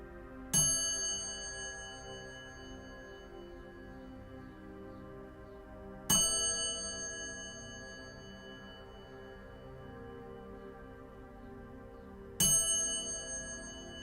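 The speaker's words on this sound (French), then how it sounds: "tandis que la cloche retentit" A meditation bell rings three times at even intervals, each strike a bright metallic ding that swells then slowly fades with a long shimmering tail, heard over a soft sustained background drone.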